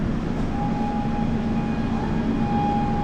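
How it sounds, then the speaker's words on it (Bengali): The 15959 Howrah–Dibrugarh Kamrup Express pulls away from Aluabari station just after sounding its horn, giving a steady, close rumble with a faint high whine running throughout. "সিগন্যাল হয়ে গেছে, হর্নও দিয়ে দিয়েছে"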